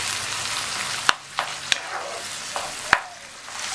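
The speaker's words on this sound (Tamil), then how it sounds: "2-3 நிமிஷம் போல் நல்லா இந்த மாதிரி வதக்கி விட்டுக்கங்க" Mashed potato masala for masala dosa sautéed in a pan, a soft sizzle broken by several sharp spatula clacks and scrapes as it is stirred, close up with no talk.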